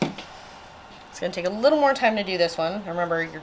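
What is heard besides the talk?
No everyday noise stands out behind the speech.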